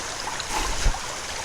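A river flows steadily nearby outdoors, a continuous broadband wash of moving water with a slight swell partway through, no voices over it.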